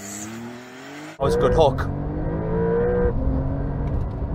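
A new BMW M3 or Porsche 911 Carrera makes a hard launch from standstill, its engine suddenly roaring and climbing steadily in pitch through strong acceleration, loud and close from inside the cabin, with a brief remark spoken over it.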